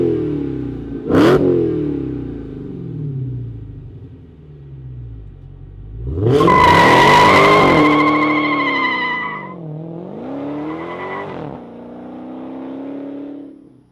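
A Dodge Charger Outlaw Hellcat's supercharged V8 with a MagnaFlow exhaust revs hard, close and loud: a deep idling rumble, then a rising supercharger-whine roar, a drop, and a second shorter rev with no talk.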